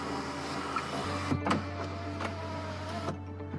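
Power windows closing on a 2020 Mercedes GLA 250 compact SUV, a steady electric motor hum from inside the cabin running for a few seconds, with soft clicks and a stop near the end.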